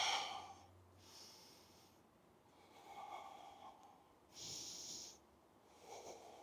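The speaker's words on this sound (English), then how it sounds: "3 deep breaths." Slow, deep yoga breaths during a strength and stamina workout, several audible inhales and exhales rising and falling in a relaxed rhythm, close and airy, with no speech.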